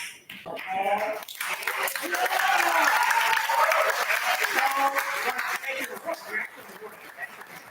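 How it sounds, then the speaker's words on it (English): An audience in a hall applauds Hall of Fame inductees at a media history ceremony, a full sustained burst of clapping that swells after a second and carries on for several seconds, with a voice speaking over parts of it. "One more round of applause for all of our inductees."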